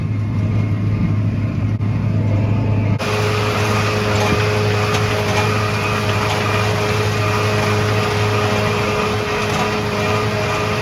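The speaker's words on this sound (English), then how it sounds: "Mowing away this red clover here now." A tractor runs steadily while mowing red clover for silage, its engine a loud, constant drone with a shift in tone partway through as the mower works.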